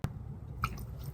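A single bite into a crispy duck fat potato, one short close crunch followed by faint chewing, quiet and alone.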